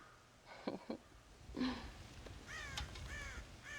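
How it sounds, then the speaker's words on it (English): Crows caw from a farm with a corn silo in the Red Dead Redemption PC game. A few harsh, hoarse caws come in quick succession after some low thumps and faint background ambience. "God damn crows!"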